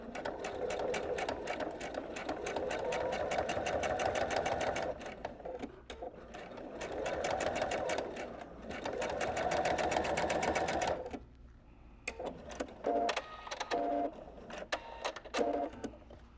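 A sewing machine runs a straight stitch along bias tape in quick bursts, its needle clattering rapidly and steadily, close and clear, with brief pauses and lighter ticking between runs.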